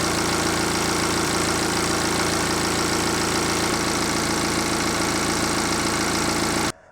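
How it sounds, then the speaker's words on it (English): A loud 1.6 diesel engine in a Mini One D idles steadily nearby with a constant rumbling drone and rattle, then cuts off abruptly at the end. "Now I'm going to actually start the engine"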